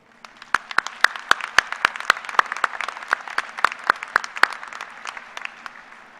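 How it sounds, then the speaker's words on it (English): Graduation audience at a K-State Human Ecology fall commencement bursts into applause, a steady wash of many hands clapping with sharp individual claps standing out, building then tapering off. "Will you please join me in giving them a round of applause?"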